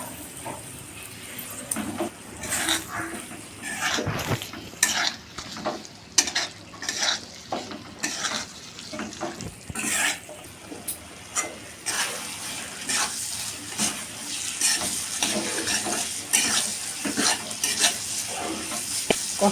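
Cashew paste stirred into sautéed masala in a pan for cheese gravy, uneven scraping and clinking of a utensil against the pan over a low sizzle, with bursts of stirring throughout.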